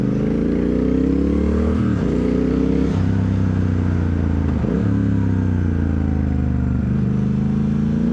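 A Triumph Speed Twin 1200 motorcycle rides along small roads, its engine note loud, close and steady, with rising and falling pitch through several gear changes and a constant rush of wind, with no talk.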